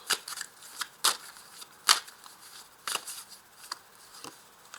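Tarot cards being handled and laid down during a reading, a series of crisp, sharp snaps and flicks at irregular intervals, close and clear against a quiet background.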